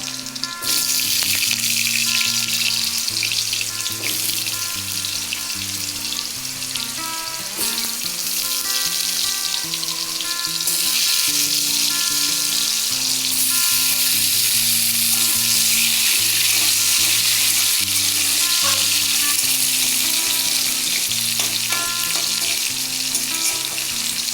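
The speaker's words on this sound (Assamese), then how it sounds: "সেইখিনি অলপ সময় ভাজিম, অলপ সিদ্ধ হোৱাকৈ" Steady, loud sizzling of onions and potatoes frying in a hot pan, continuous throughout with a bright hiss and faint clinks, no talking.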